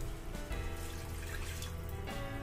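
A can of water is poured into a pot of pasta and tomato meat sauce, giving a continuous close splashing pour that runs steadily for a couple of seconds.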